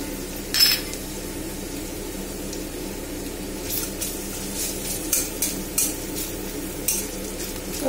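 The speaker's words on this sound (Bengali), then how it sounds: "রসুনটা ভাজা হওয়ার জন্য একটু সময় দেব।" Crushed garlic fries in oil alongside reddened ingredients while preparing a duck egg curry, a moderate steady sizzle with intermittent metal utensil scrapes and taps against the pan; no one speaks.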